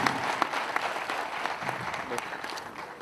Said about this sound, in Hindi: तालियां बजा करके उनका जोड़े का स्वागत करें।